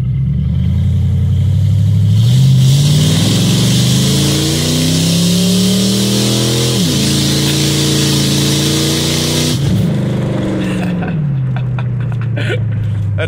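A loud, raw 1999 Ford Crown Victoria P71 engine with no exhaust and an H-pipe, cold, revs up and holds in a harsh roar, pitch rising and falling through several pulls before dropping off abruptly.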